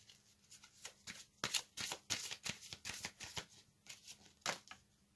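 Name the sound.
tarot cards being shuffled and drawn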